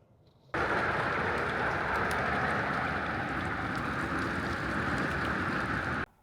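Steady rain falling during bad weather in Canada, a dense continuous hiss that starts abruptly, holds evenly loud for about five and a half seconds with no voices, then cuts off.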